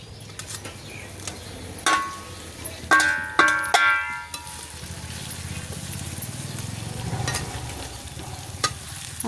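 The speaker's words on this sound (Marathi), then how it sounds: "आता या एवढ्या तेलामध्ये ही भेंडी छान अशी तळून घेतलेली आहे" Okra rubbed with besan and dry spices fries in a few spoons of hot oil in a kadhai over a wood-fired chulha. A spatula scrapes and clanks against the pan several times over a soft, steady sizzle.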